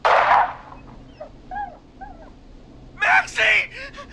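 A dog whimpers and yips in the video game Killer Frequency, with a few short, high whines spread across the clip and a burst of vocal sound at the start and near the end.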